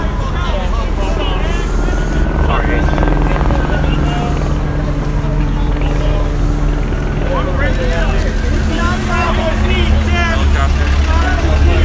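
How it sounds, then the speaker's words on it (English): A helicopter drones loudly overhead at a street protest in Philadelphia, its rotor a constant rumble beneath nearby people talking and crowd noise. "Yeah, helicopter overhead."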